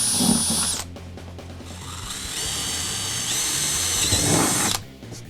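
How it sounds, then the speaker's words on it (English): A power drill bores 9/32-inch bolt holes through a cargo pod for mounting MAXTRAX traction boards on a Ram truck. The motor whines steadily for several seconds at close range, rising in pitch, then stops. "drill some holes for our bolts"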